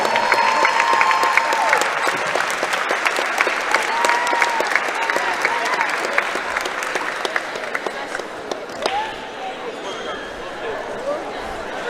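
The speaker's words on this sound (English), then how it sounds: "Give them a round of applause." A crowd at a women's college basketball game claps steadily and warmly for the whole stretch, a dense patter of hands with a few whistles and voices mixed in.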